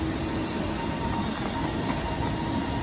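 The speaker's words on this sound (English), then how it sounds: "Love these big trains." A TransPennine Express train rumbles loudly and steadily through Penrith station, with broadband rail noise, wheel squeal and a faint clatter of wheels on track at close range, no voices.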